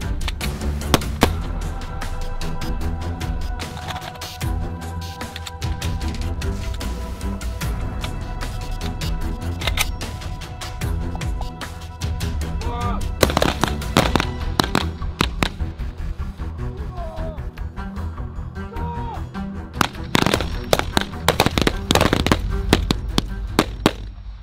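Firearm shots ring out during military shooting practice, a dense run of sharp cracks and bursts, some rapid, over constant background noise, with occasional voices.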